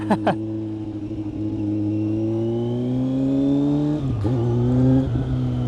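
A Kawasaki Z900 motorcycle fitted with a Leo Vince GP Corsa slip-on exhaust revs close up, holding a droning rising pitch before a quick throttle blip and dip, then climbing again, loud and alone.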